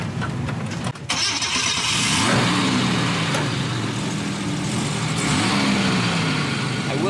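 A Volvo 164 engine cranks briefly, catches and starts, then settles into a loud, steady run with some revving, heard up close.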